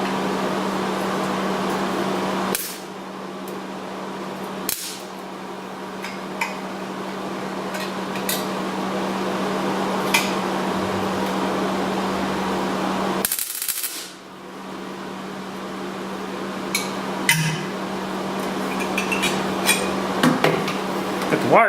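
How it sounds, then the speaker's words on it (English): Welder tacking a car dash part in a driveway with wire speed set too high: a steady electrical hum broken by several sharp bursts of crackle and clicking, close and fairly loud. "So let's just grab the welder and tack this thing in."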